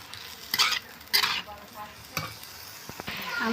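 Ash gourd curry stirred in a frying pan, with bursts of scraping and sizzling spaced a beat apart, close by and fairly quiet.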